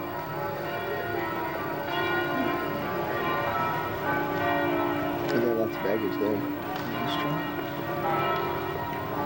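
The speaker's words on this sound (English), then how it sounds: "Here's the view from our room of the church bells go off from the square." Church bells ring out from a distance across a Venice square beneath steady crowd chatter and nearby talking, their tones layered over a busy outdoor murmur.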